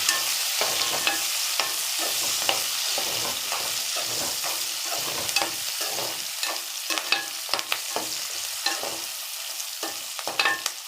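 Drumstick pieces fry in hot oil with a bright, steady sizzle, punctuated by regular stirring clinks and scrapes throughout, close and moderately loud.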